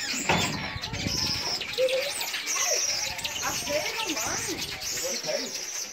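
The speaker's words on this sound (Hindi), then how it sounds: "प्यारे प्यारे बर्ड्स हैं," Birds at a zoo give repeated short chirps and cooing calls against a lively outdoor background, with people talking nearby.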